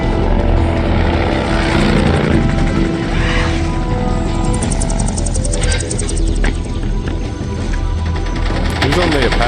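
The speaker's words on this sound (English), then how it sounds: "Who's on the Apache?" An Apache helicopter in the video game Metal Gear Solid 3 gives off a loud, continuous rotor and engine roar that fills the scene, with a person talking over it.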